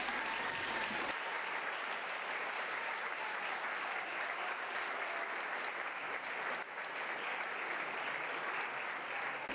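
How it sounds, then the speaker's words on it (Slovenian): An audience at a children's play performance applauds the parents in steady, dense clapping that holds evenly throughout, heard from a moderate distance. "Zato močen aplavz tudi za starše."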